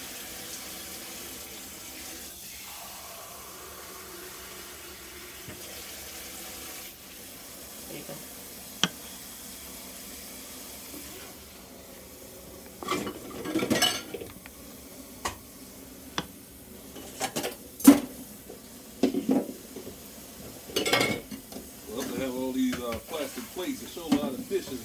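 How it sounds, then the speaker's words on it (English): Dishes being washed by hand in a kitchen sink with running tap water and dish soap, a steady faint trickle with occasional clinks and splashes growing louder in the second half, with voices talking in the background. "I sure hate washing dishes with Dollar Tree's soap"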